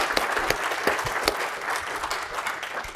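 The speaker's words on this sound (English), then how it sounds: "can we just give a round of applause for Scott and Chris, because that's a lot of" An audience breaks into a round of applause for two presenters after a live software demo, sustained dense clapping at steady moderate volume throughout, with a few louder individual claps standing out.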